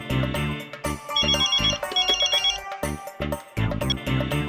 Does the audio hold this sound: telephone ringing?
yes